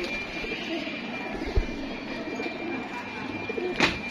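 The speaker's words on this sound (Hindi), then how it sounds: "बहुत ही आउट क्लास कबूतर है ये।" Golden pigeons coo softly in a loft setup, giving a few low, muffled calls over a steady background hum. A faint distant aircraft drones, and a brief sharp knock comes near the end.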